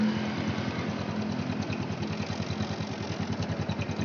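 A Honda Revo Fit motorcycle engine idles steadily with a fast, even putter and mechanical ticking, close up and alone, just after fresh oil was added.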